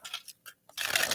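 Oracle cards being shuffled by hand, a brief papery riffle of short rustling bursts ending in a longer, louder flutter, close and alone.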